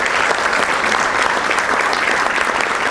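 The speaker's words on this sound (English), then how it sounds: "Can we give them all a round of applause?" Dense, steady applause from an audience at a chamber of commerce breakfast, loud and sustained throughout without a break.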